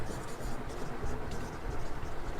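A pen scratches steadily across paper while entries are written into a petty cash book, a continuous close, dry scraping with small bursts of strokes and no voices.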